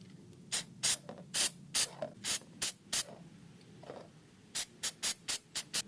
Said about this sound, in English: I will be using CRC mass airflow sensor cleaner.